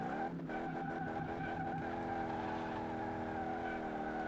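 A McLaren Formula 1 race car in the game Car Mechanic Simulator 2018 spinning out, its engine holding a loud steady high drone with a stuttering, pulsing stretch at the start.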